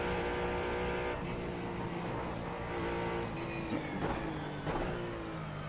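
Ford Mustang GT4 race car in iRacing, engine holding a steady loud drone at full throttle with pitch dips and rises through gear changes, close and alone.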